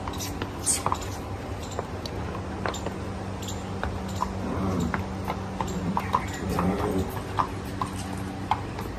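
Horses, one white and one black, stepping with scattered hoof clops and light knocks close by, under a steady murmur of background activity.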